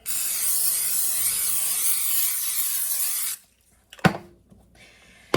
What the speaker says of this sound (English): go ahead and spray my crock pot here